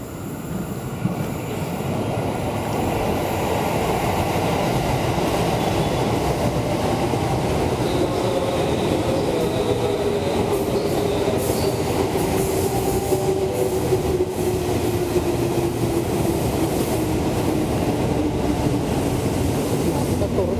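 An Indonesian KRL commuter train runs steadily and loudly at Juanda station in Jakarta, with rail rumble, wheel noise and a squealing tone drifting through, continuous throughout.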